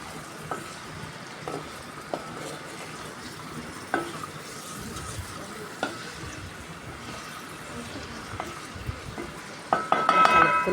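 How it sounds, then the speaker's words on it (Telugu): Ivy gourd (dondakaya) pieces stirred in hot oil, a steady sizzle under repeated scraping clicks of a spoon against the pan, with a louder clatter of stirring near the end. "ఒకసారి ఆయిల్ కలిసేలాగా కలుపుకుందామండి"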